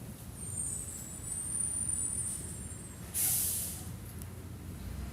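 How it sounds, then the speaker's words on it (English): Truck nearby with a low engine rumble that swells as it revs, then a sharp loud hiss of an air brake releasing, with the rumble continuing underneath. "I'm gonna let this truck driver go. He's revving his engine for some reason."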